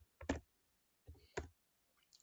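A command is typed on a computer keyboard as a few quiet keystroke clicks in two short clusters, separated by silence, with no talking.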